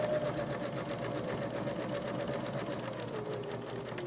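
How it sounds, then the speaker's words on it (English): A sewing machine runs a steady back stitch along a journal cover, its rapid even needle chatter close and continuous with a faint motor hum and no voices. "And I'm going to back stitch there."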